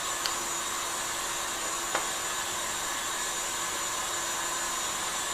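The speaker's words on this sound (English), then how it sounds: "while we're waiting for the egg whites to whisk up" Electric mixer whisking egg whites for a gluten free chocolate coffee cake, a continuous loud whirring drone with a couple of faint taps, close by, no talk.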